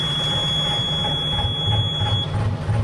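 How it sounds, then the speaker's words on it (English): A high, steady electronic buzzer tone from a catamaran's saildrive low-oil-pressure alarm sounds continuously over loud engine rumble at startup, then cuts off near the end while the engine keeps running. "This is the Saildrive alarm."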